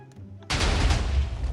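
A TNT cannon blasts off in a video game: after a quiet moment, a sudden loud explosion bursts in and rolls on as a dense, crackling roar of overlapping detonations with no talking.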